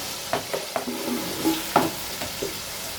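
Sliced tomatoes are stirred into chicken tahari frying in a pot, giving a steady sizzle broken by several soft scraping and clinking stir strokes.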